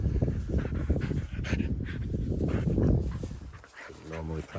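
Hungarian vizsla dogs pant and whimper softly outdoors, while a person talks over them throughout.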